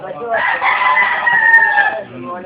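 Hens on a farm cluck and squawk loudly and up close, one laying eggs, in a short burst of drawn-out, rising cackling calls.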